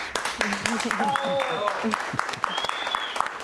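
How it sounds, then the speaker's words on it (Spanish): Studio audience on a Spanish-language talk show breaks into sustained applause for a female guest, an activist, with dense steady clapping filling the room and a few voices calling out over it. "Es la primera vez que hay un aplauso así para una invitada en nuestro programa."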